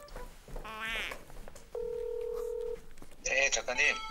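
Telephone dialing tones for a call placed during a Korean broadcast news talk show, a steady electronic tone of about a second set between bursts of talk and laughter in the studio.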